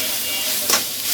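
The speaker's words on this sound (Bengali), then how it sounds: "চিকেন কিমাটা আমি এরকম ভাজা ভাজা করে নিতেছি।" Chicken mince sizzles and hisses while it fries in a pan for a bread samosa snack, a short burst of close frying noise with one brief stirring flare.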